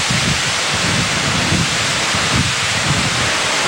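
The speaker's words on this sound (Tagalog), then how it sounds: "Ramdam na namin ngayon sa mga oras na ito yung pinakabugso ng hangin at ng ulan" Typhoon Nina batters Camarines Sur with strong wind and heavy rain, a loud, continuous roar of rushing air and downpour with gusty low rumbles buffeting the microphone, cutting off abruptly at the end.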